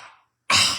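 A person imitates a messy, loud cough or sneeze with their voice. A faint breathy exhale trails off into silence, then a sudden loud, wet, explosive burst follows, close to the microphone.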